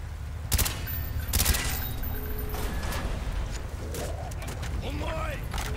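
Gunfire aimed at door hinges in Call of Duty Black Ops, heard as a few sharp bursts near the start amid dense game noise and mechanical clatter, with voices talking throughout.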